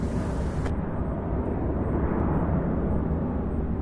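An MD-11 roars on its takeoff run at Louisville airport, a loud, continuous jet engine rumble close by with a brief high hiss at the start, and no talking.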